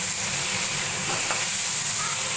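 Arum stalks and jackfruit seeds frying in a pan with salt and turmeric, a constant close hiss and sizzle in a brief stretch.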